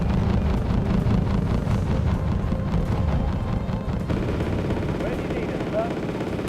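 Gunfire and explosions from the WarGame: AirLand Battle combat game, a dense, steady roar of rumbling shots and blasts that continues loudly throughout without clear breaks.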